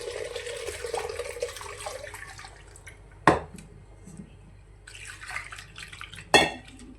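Soaked lentils being rinsed in a pot of water for sambar vada, with sloshing and trickling water, two sharp knocks of the vessel, and splashes between quieter stretches.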